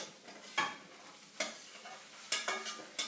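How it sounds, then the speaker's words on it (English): Shepherd's pie filling is spooned from the pan into a baking dish: a few sharp scrapes and wet clatters, spaced about a second apart, over a quiet background. "I'm going to transfer all my pie, you see it, it's very nice, all my pie innards into the dish"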